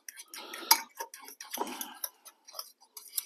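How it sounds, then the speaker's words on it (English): Fork clinking and scraping against a bowl while stirring lime crema for fish tacos, a run of quick light ticks and taps, close and fairly quiet, with no talking. "going to get a fork out to stir this together."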